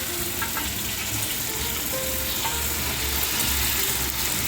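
Rice noodles half-fry in a shallow layer of oil in a wok, giving a dense, steady sizzle and crackle close by, with faint clinks, uninterrupted and without talk.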